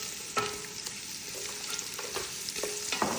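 Sliced carrots frying in a pan where onion was just cooked, a continuous close sizzle punctuated by several sharp spatula scrapes and taps at uneven intervals.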